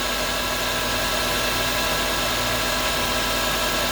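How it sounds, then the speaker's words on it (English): A 2003–2007 Honda Accord with a K-series engine and a P2646 fault hums steadily on a test drive, a loud continuous engine drone with road noise and no talking. "let's go ahead and take this thing for a test drive"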